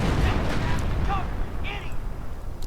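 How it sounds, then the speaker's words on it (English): Deep, heavy booms and rumbling blasts of artillery fire from a game, with a voice talking over the battle noise. "And artillery goes in, clearing out the Flak 88 in a second."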